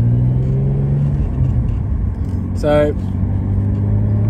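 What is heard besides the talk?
car driving on the road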